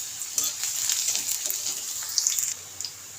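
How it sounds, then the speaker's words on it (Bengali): Six or seven cloves of chopped garlic fry in hot oil with nigella seeds, giving a continuous bright sizzle with small pops and crackles, close by and without talk. "এবার রসুনটা একটু ভেজে নেব"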